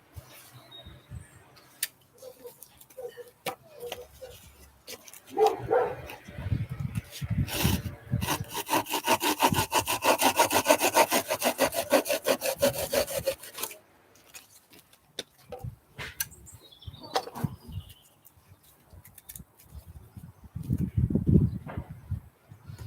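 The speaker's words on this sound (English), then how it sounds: "decide which part I want, and then saw it off again" A hand saw cuts through a wooden spindle for a bow drill fire in repeated back-and-forth strokes, close and rasping, rising to a steady sawing run mid-clip before pausing and resuming with short scrapes.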